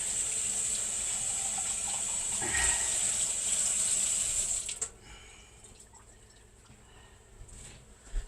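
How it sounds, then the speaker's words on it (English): Tap water runs steadily while something is rinsed out during chili cooking with jalapeno peppers, a close, even rush lasting about five seconds before cutting off, followed by quieter kitchen handling noises. "And again, same thing, I rinse this out."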